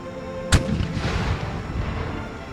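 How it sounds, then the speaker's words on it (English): A cannon fires in Empire: Total War during an American Revolution battle, one sharp loud boom followed by a rumbling tail and distant battle noise fading over the next two seconds. "Shoot the cannon."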